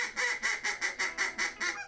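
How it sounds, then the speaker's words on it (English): A duck call used for waterfowl hunting, sounded in a run of eight quick, evenly spaced quacking blasts that trail off at the end, loud and close with no talk over it. "Whether it's a duck call,"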